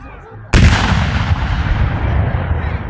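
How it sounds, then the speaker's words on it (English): A sudden, deafening cannon blast booms nearby at a Civil War battle reenactment at Old Bedford Village, followed by a long rumbling roar that slowly fades as it echoes. "They have small hand-me-down cannons."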